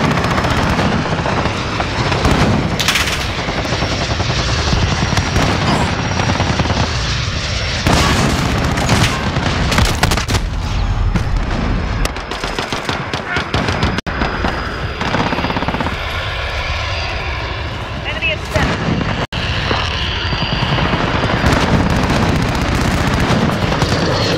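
Dense video game gunfire with rapid machine-gun bursts, single shots and booming blasts, loud and nearly continuous throughout a frantic firefight.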